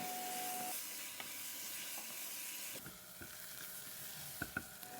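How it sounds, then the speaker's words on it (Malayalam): Carrot halwa being stirred in a pan over medium flame, a faint steady sizzle and hiss with occasional soft scraping taps of the spoon, quiet and close. "ഇനി നമ്മൾക്കിത് കുറച്ചുകൂടി ഒന്ന് വറ്റി വരുന്നവരൊന്ന് ഇളക്കി കൊടുത്തുകൊണ്ടേയിരിക്കാം."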